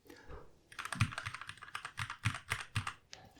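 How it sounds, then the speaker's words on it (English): A Keychron K8 keyboard is typed on up close, giving a brisk, uneven run of crisp clicky keystrokes with a few heavier thocks mixed in. "This is a K8 keyboard by Keychron. Nice clickety-clackety."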